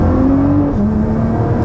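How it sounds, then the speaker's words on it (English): A Nissan GT-R pulls hard through second gear, a loud, steady, close engine drone with a rising whirring note and no talking. "Let's just do a second gear acceleration."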